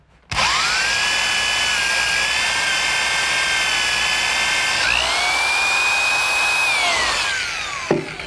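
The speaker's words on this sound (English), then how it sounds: "now I'll finish drilling it through the bottom" A power drill boring through the bottom of a wooden rolling shop cabinet for caster bolts, a high steady whine running several seconds with a brief pitch shift midway, then winding down and stopping.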